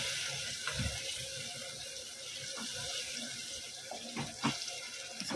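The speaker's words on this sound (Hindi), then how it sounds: "थोड़ा सा पानी इसको खंगाल कर डाल देंगे" Tap water running into a cooking pot to rinse out the spice paste left from marinated chicken for aloo kurma, a steady splashing rush with a few clinks of metal, no talking.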